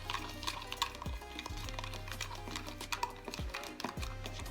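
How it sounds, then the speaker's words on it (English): A keto dip mixture stirred in a bowl, with soft scraping and clicking strokes in an irregular rhythm, close and fairly quiet, under a low background hum. "I'm going to go ahead and give this a stir."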